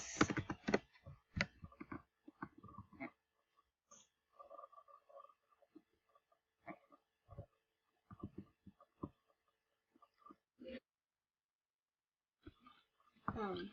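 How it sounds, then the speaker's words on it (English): Someone types on a computer keyboard, giving faint, scattered bursts of soft key clicks amid quiet gaps, with brief bits of speech and other small noises mixed in. "He's just typing."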